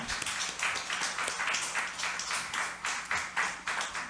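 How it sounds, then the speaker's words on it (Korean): Church congregation applauding during a Sunday worship service, steady rhythmic clapping from many hands in unison, moderately loud and without talk. "우리 다시 한번 하나님께 영광의 박수 올려드리겠습니다"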